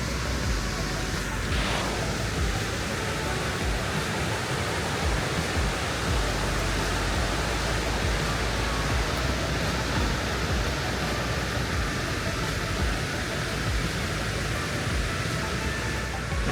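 Rushing river rapids in Iceland on the way to a waterfall, a loud, steady broadband roar of churning water close by that runs unbroken throughout.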